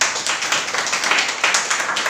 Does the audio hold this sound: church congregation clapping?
yes